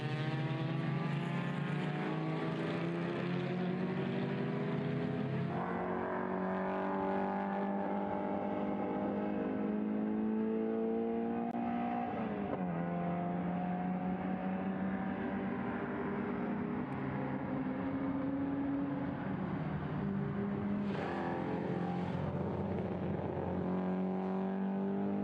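Caterham Super Seven race cars run on a circuit, including a Ford Capri and a BMW among the field, engines droning and revving continuously at high pitch with rising and falling shifts as cars pass, loud and sustained without pause.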